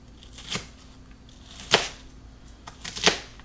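A knife cutting onion slices into small pieces on a cutting board, heard as three sharp, separate chops spaced roughly a second apart, close and fairly quiet.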